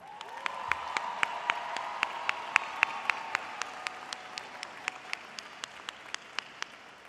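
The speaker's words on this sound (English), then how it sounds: "Can you give a round of applause to all of the Dekaney High School" Applause at a high school graduation ceremony in a large venue, heard as distinct, evenly spaced claps at a steady rhythm over a faint background hum, fairly quiet and distant rather than a full roar.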